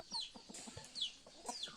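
Roosters kept in a net enclosure cluck in short bursts with a couple of higher squawks, fairly faint, on a quiet farmyard background.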